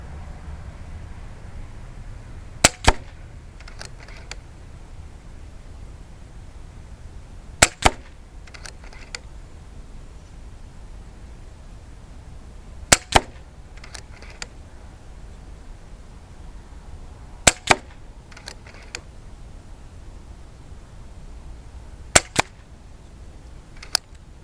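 An Umarex Zelos air rifle fires five pellet shots at a 50-yard range, each a sharp snap with a quick follow-up ping, spaced about five seconds apart over a quiet background hiss.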